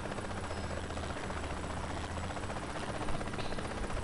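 Helicopter in Saints Row 3 whirring steadily and loudly throughout, a constant rotor drone with dense low thumping and broadband engine noise, no talk over it.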